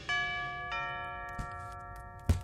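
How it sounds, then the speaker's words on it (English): Cartoon bell ringing at an ice fortress: two clear chimes with long ringing tones, followed by a few soft knocks and a thud, fairly quiet. "ring the bell"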